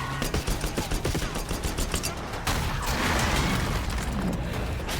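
Rapid gunfire in the video game Call of Duty Black Ops 6: dense bursts of automatic shots and mechanical clatter, then a continuous roaring fusillade, loud and close.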